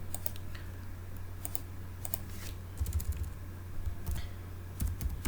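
Quiet, close typing on a computer keyboard while writing Python code, heard as irregular bursts of soft key clicks with short pauses and no talk.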